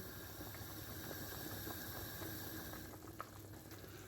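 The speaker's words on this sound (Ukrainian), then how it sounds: "І доводимо до кипіння. Закипіло," Cabbage soup with chicken broth comes to a boil in a pot, a dense steady bubbling hiss with scattered small pops, constant and close, no talking.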